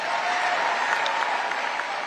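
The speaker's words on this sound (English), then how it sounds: "A cheering crowd for former President Donald Trump at the Conservative Political Action Conference, CPAC, over the weekend." A large crowd applauding and cheering for former President Donald Trump at the Conservative Political Action Conference, a steady loud wash of clapping that holds evenly throughout.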